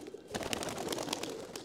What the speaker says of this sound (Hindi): बाकी देखें ये सारे कबूतर हैं।